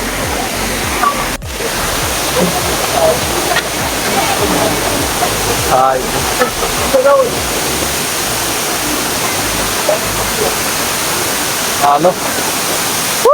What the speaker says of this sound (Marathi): धबधब्याच्या खाली आलोय